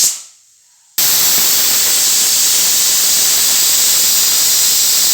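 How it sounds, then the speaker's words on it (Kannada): A pressure cooker cooking dal with basale greens for sambar vents steam after a second of quiet, then a loud, steady, close hiss runs unbroken to the end. "ಬನ್ನಿ ಒಂದು 2 ವಿಸಿಲ್ ಕೂಗಿಸ್ಕೊಳ್ಳೋಣ."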